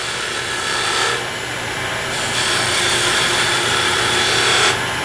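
Wood lathe with a turning tool's long point cutting a furniture part, a steady broadband hiss and rumble of the spinning workpiece with tool shearing, loud and continuous with slight changes in intensity.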